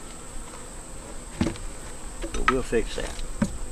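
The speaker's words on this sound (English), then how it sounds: "There's a hole in the screen right here, and the bees can get out, but they can't get back in." Bees buzzing around a deep nuc hive with four frames, a faint continuous drone with sharp knocks and handling noises, while someone speaks briefly.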